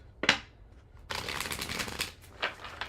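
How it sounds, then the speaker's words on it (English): Close, crisp riffling of tarot cards being shuffled: a sharp snap, then a long papery flutter and a final quick riffle. "Last shuffle."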